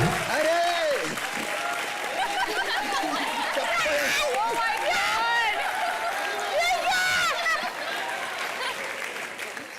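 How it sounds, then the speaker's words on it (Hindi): A studio audience at a Hindi television comedy show claps for a senior actress. Continuous, fairly loud applause runs under overlapping talk throughout. "उषा जी के लिए जोरदार तालियां हो जाए।"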